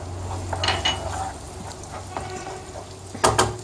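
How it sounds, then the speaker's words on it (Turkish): Tomato paste sizzling in hot oil in a frying pan with rice, a steady soft crackle broken by a few clinks and stirring scrapes. "Şimdi de tavamızın içerisine salçalarımızı ilave edeceğiz."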